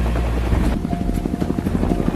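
Helicopters in a war film thud with a loud, steady rotor beat that fills the scene with a dense mechanical roar, close and continuous throughout.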